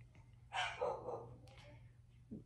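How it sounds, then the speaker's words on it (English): Several dogs bark indoors, a quick burst of barks and yips in the middle of the stretch followed by a short yelp, somewhat distant against a low room hum. "don't mind my dogs"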